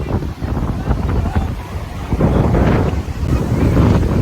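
Ocean waves rush against the beach at Puri, India, in rough surges while strong wind buffets the microphone.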